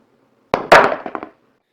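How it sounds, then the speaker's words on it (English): A pool ball drops into the center of a pocket with a single sharp knock, then a short rattling tumble of a few quick clacks that dies out within about a second, heard alone. "This is the sound a ball makes hitting the center of a pocket."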